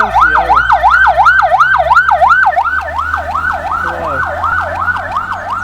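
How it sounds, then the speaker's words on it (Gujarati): An ambulance siren wails in a fast, repeating up-and-down pattern, loud and close, with traffic rumbling underneath. "એમ્બ્યુલન્સ આવે"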